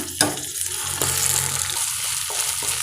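Ginger garlic paste with green chillies sautés in a pan with a steady, loud sizzle, broken by a few sharp stirring scrapes.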